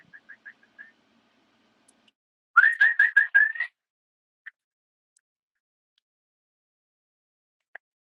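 Someone whistles a few short chirps to call pigeons, then a louder warbling trill lasting about a second, followed by scattered faint clicks in an otherwise quiet space.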